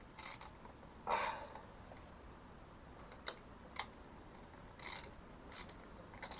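Mechanical clicks and short ratcheting bursts come from a wrench bolting the starter onto a 1973 Harley-Davidson Sportster. They arrive in scattered, fairly faint clusters, close by, with quiet gaps between them and no talking.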